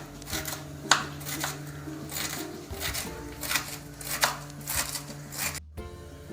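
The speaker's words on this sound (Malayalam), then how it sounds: "ഇത് ചെറിയ പീസുകളായിട്ട് ഇതുപോലെ അരിഞ്ഞെടുക്കാം" A knife chops a handful of spinach into small pieces on a board, producing a series of crisp, close, evenly spaced cuts in a steady rhythm, with no one speaking.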